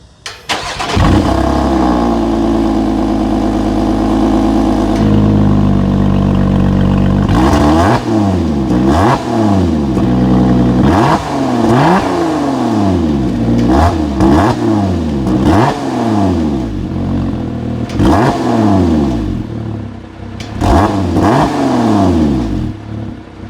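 A Lotus Emira V6 First Edition cranks and fires into a loud, steady idle, then gets a run of sharp throttle blips, each rev rising and falling quickly in a rhythmic series close by.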